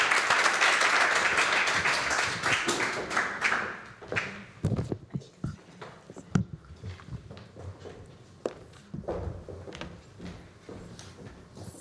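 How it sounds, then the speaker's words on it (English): An audience at a young leaders' advocacy seminar bursts into steady applause, a dense wash of clapping that fades into scattered individual claps and taps. "please give a warm thank you clap for."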